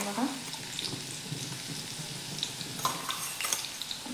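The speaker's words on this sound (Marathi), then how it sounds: "आता आपण जो लसूण आणि मिरचीचा ठेचा बनवून घेतला आहे बघा तो टाकून घेऊयात" Garlic and green chili paste sizzles with cumin in hot oil, a steady close frying hiss with faint stirring scrapes and light clinks throughout, no talking.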